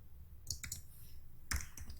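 Keys on a computer keyboard being typed, a URL entered into a web browser: two short clusters of sharp clicks roughly a second apart, close and moderately quiet, with no voice.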